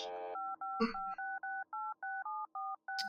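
Telephone keypad tones beeping in Serious Sam HD, a run of about nine evenly spaced dual-tone presses after a brief clatter, clear and close with no talking.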